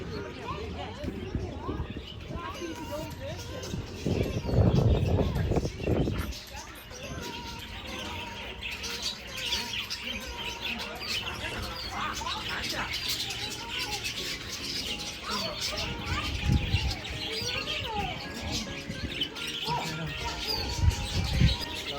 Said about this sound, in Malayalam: കിളി കിളി നമുക്ക് കിളിയെ കാണാൻ പോവേ